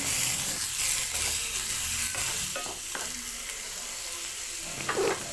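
Chopped tomatoes being stirred into chana dal frying with cumin in a pan, a steady sizzle with scraping stir strokes throughout, close and fairly loud, no talking.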